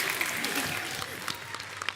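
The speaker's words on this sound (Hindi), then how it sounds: "कांग्रेचुलेशन, जोरदार तालियां हो जाए।" Studio audience applause for a game winner on a Hindi comedy talk show, steady dense clapping at moderate level for the full two seconds with no talk over it.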